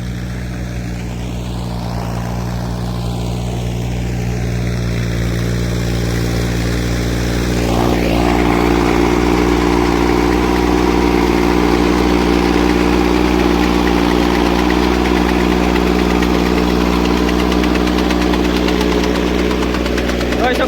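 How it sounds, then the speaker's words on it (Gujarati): Two tractors run together in a farm field, a loud continuous diesel drone with a rhythmic knocking throb that swells slightly partway through, with someone talking over it. "બે ટ્રેક્ટર હાલે છે આપણી વાડીમાં"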